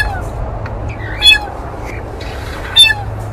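A blue jay imitating a cat's meow gives two short, distinct meow-like calls about a second and a half apart, clear and close over a low background hum.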